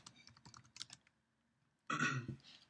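Short bursts of quick keystrokes on a computer keyboard, close and quiet, pause briefly before a louder flurry of typing resumes.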